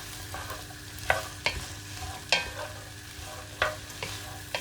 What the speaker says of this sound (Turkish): Biberlerimizi çok az yağda karıştırarak kavuruyoruz.